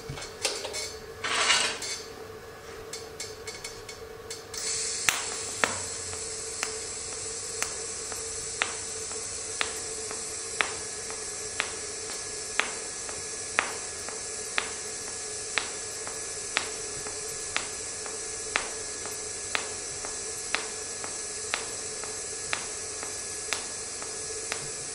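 A CK Worldwide MT375 AC/DC welder arc pulses once per second, giving sharp, evenly spaced clicks over a steady high buzzing hum that runs about twenty seconds, after a brief rustle at the start.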